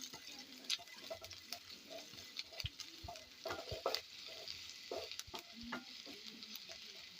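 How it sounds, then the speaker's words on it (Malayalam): Chopped garlic frying in hot sunflower oil for a macaroni dish, a soft steady sizzle with scattered stirring clicks and taps from the pan, fairly quiet and close, with no talking. "ഇനി അതിലേക്ക് നമുക്ക് വെളുത്തുള്ളി അരിഞ്ഞത് ഇട്ട് കൊടുക്കാം വെളുത്തുള്ളി ഒന്ന് മൂത്ത് വരട്ടെ"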